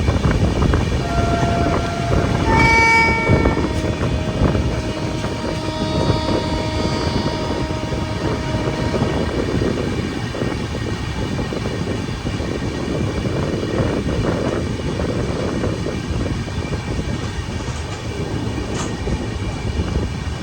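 A train runs steadily along the rails, a loud continuous rumble and rattle of wheels with brief tonal squeals early on, close and sustained throughout with no speech.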